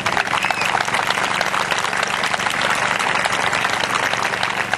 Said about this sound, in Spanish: yo les pido un fuerte aplauso para Víctor Vázquez.